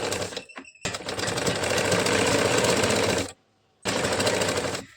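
A sewing machine stitches the lining of a katori blouse in fast, continuous mechanical whirring bursts, close and loud, with one brief pause before stitching resumes.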